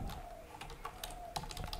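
Quick, light keystrokes tap on a computer keyboard in a short irregular burst, close and quiet, with no talking over them.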